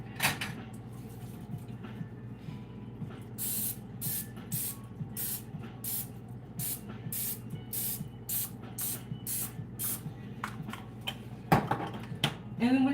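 Cooking spray hisses in a rapid run of short bursts as a dozen muffin tins are greased in a home kitchen, the sprays spaced evenly and fairly close, with a faint clatter of the pan near the end.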